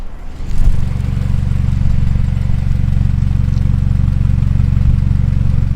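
A vehicle engine idles steadily and loudly about four feet away, at roughly 80 to 84 decibels, a constant low rumble that holds even throughout after a brief bump near the start.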